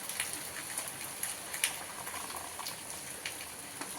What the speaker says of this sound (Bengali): বৃষ্টি পড়ছে, দেখো মুষলধারে বৃষ্টি হচ্ছে।